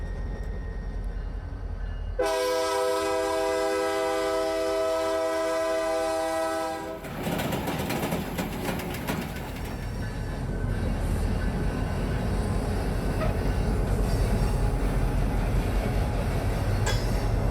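A freight locomotive on a siding at an ethanol plant at night sounds a long, loud horn blast over a rumbling engine, then heavy rolling and clanking of rail cars continues steadily to the end.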